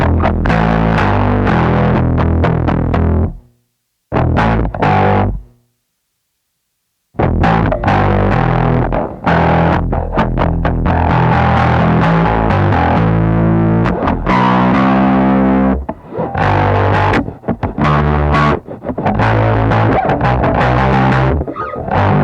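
Electric guitar played through a ProCo Roadkill distortion pedal with the tone control turned up, loud gritty fuzzy chords and riffs with brief silent gaps between phrases.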